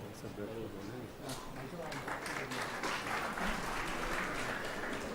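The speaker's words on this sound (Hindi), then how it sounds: "आप जाने की ताली बजा रहे हैं कि आने वाले की?" An audience at a lecture claps steadily, the applause building over several seconds while someone speaks over the start of it.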